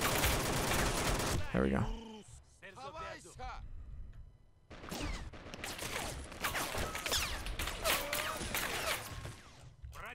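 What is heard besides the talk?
gunfire in Men of War: Assault Squad 2 video game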